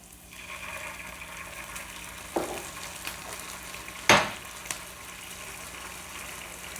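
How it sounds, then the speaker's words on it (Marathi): Gobi manchurian frying in a pan with soy sauce, a soft, steady sizzle with a few clattering scrapes and one sharp, louder splash-like burst as the pan is stirred. "आता ह्याला थोडंसं आपण फ्राय करून घेऊया"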